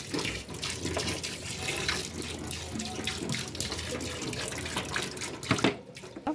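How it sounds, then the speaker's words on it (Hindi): Tap water pours steadily into a home kitchen sink, a close, continuous hissing splash that swells briefly near the end, with no voices. "पानी आने वाला, बस अभी आ जाता है पानी भी।"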